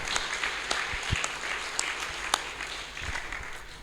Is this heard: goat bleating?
no